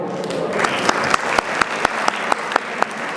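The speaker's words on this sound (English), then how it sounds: "We should really clap for that" An audience at a 25th anniversary heritage association gala applauds, a few dense seconds of clapping with several sharp, louder individual claps standing out near the front.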